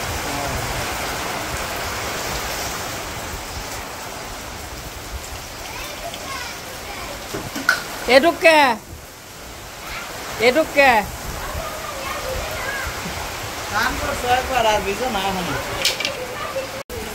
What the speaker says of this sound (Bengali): বৃষ্টি নামছে প্রচুর পরিমাণে বৃষ্টি নামছে